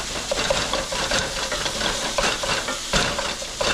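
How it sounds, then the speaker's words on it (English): Ground pork with 20% fat frying in a dry pan while a meat masher breaks it up, giving a constant sizzle with rhythmic scraping and pressing thumps, close and fairly loud. "Let's mash this up a little bit."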